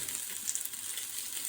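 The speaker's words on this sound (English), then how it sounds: "starting by roasting our noodles" Flour-based gnocchi or schupfnudeln roasting in a pan for an Asian-style stir-fry, giving a steady bright sizzle with faint crackles and no voices.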